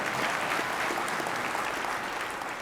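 Lecture audience applauding in a continuous wash of clapping, loud and even from start to finish with no speech over it.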